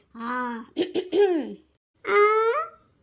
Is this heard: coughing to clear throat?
yes